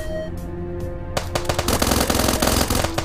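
Gunfire from the video game Starbound: rapid, loud bursts of shots that begin after a quieter opening second and keep going densely to the end.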